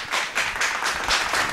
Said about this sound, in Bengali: একটু জোরে হাততালি দাও তোমরা